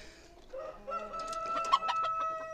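Cuckoo bantam chickens on a poultry farm cluck and call in short overlapping bursts, with a crow-like call rising among them, close and moderately loud.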